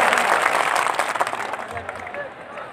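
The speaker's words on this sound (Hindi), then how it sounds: "जोरदार तालियों से इस्तकबाल कर ले" An audience at an Indian poetry mushaira applauds loudly, a dense burst of clapping that begins at full strength and gradually thins and fades over a few seconds, with crowd murmur mixed in.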